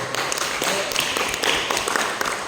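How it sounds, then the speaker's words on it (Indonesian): A classroom audience claps for a student group after its presentation, a dense, steady patter of many hands lasting a couple of seconds, with no one speaking over it. "Oke, beri aplaus kepada kelompok 1."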